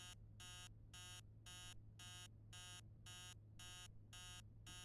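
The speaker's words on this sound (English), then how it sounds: "That alarm clock is annoying." An alarm clock beeping in the horror video game Emily Wants To Play Too, ten evenly spaced bursts of shrill electronic tone over a low hum, faint and steady.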